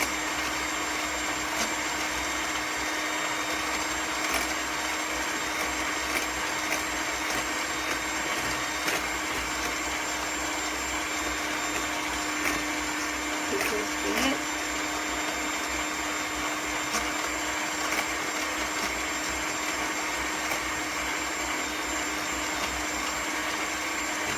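An electric whisk whips aquafaba (chickpea water) with a steady, loud whirring drone that runs without a break for the whole stretch, and no voices are heard.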